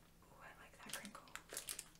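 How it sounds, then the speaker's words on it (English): Plastic wrap on an Everdell board game collection crinkles and crackles in close, quiet bursts as a cardboard box is unwrapped, with soft breathy murmuring beneath. "That's a nice crinkle."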